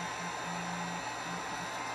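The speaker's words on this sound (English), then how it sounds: "I use the heat gun to help loosen up just a little" A heat gun blows steadily to soften and loosen tape on an epoxy-coated tumbler, making a continuous close-up whooshing hum that stays even throughout.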